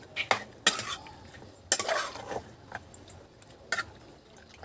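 Chicken adobo being stirred in a pan with a metal utensil, several irregular scraping clinks against the pan over a low background, with no voices.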